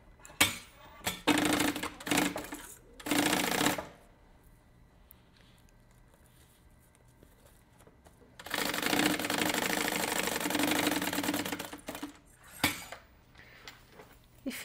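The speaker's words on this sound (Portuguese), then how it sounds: "vou passar uma costurinha reta" A sewing machine stitches a straight seam on bag lining in short bursts, with a long steady whirring run in the middle, close and clear, separated by quieter pauses with light handling noise.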